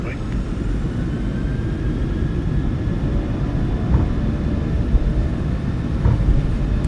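PMDG 737-800 engines in MSFS2024 hold a steady, loud, dense roar at takeoff power that fills the whole stretch without break.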